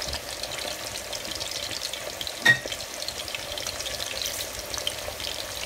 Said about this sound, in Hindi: जीरा थोड़ा गर्म होने देंगे और थोड़ी मिर्ची भी हमने फ्राई करनी है